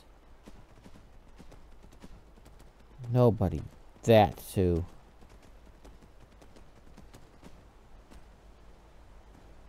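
A robot horse's hooves in Skyrim clop in a steady, faint rhythm throughout. A voice speaks briefly over it in the middle.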